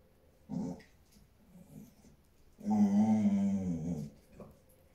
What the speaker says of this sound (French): Vous entendez, c'est mon chien qui ronronne.